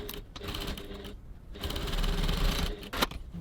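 A sewing machine stitches the short end of a crossbody bag 1 cm from the edge at a 2.4 stitch length, running in two steady bursts with a brief pause between them, close and loud.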